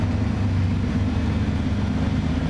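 An off-road crawler climbing the Rusty Nail rock obstacle on the Gate Keeper trail gives a steady, low, loud engine drone at crawling speed, close by and unbroken, with no voices.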